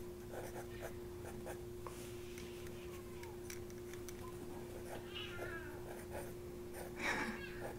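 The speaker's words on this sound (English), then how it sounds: "My cat is not happy." A cat meows a few times, faint and indoors, beneath soft scratching and writing sounds and a steady low hum.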